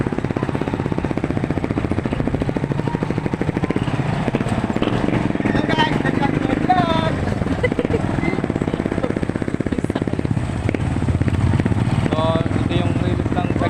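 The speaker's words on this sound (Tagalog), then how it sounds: "kami motor na ngayon" A motorcycle putters along on a ride through a town, its steady chugging engine close and continuous under intermittent talk from riders.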